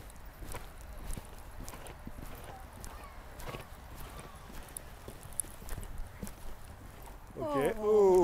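A horse's hooves trot in a steady, soft rhythm on arena footing during a riding lesson, with faint voices in the background and a brief, higher whinny-like cry near the end.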